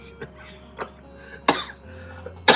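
Several short, dry coughs from one person come in bursts spread across a couple of seconds, close and fairly loud, with a sharper hack near the middle and another at the end.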